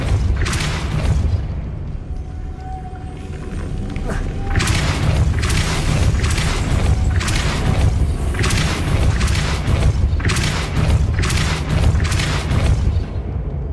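Casting the Depulso spell in Hogwarts Legacy sets off a run of deep, booming force blasts, several in a row over a loud continuous rumble, with a voice briefly heard at the start.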